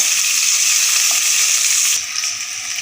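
Pre-boiled large potatoes fry lightly in hot oil for a katla fish recipe, giving a steady, close hiss of sizzling that softens slightly near the end, with no talking.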